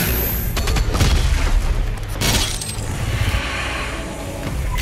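Gunfire in Doom Eternal: several heavy, booming shots with metallic clatter and explosive bursts, loud and close, with a few sharp impacts and rumbling decays between them.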